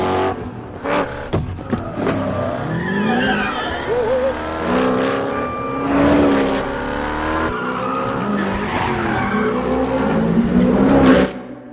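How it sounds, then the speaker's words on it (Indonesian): A Ford Mustang driven hard in an action film scene, its engine roaring and tires squealing and skidding through repeated bursts, with a brief spoken line and music mixed in. "Dengan mengendarai sebuah mobil Mustang, Donnie disuruh untuk bermanuver di sepanjang jalan."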